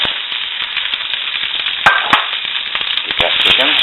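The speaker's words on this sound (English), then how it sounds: "I'm going to add this sausage into it." Sausage sizzles steadily in a heated cast iron skillet, a loud, close, continuous crackling hiss with a few sharper pops and scrapes along the way.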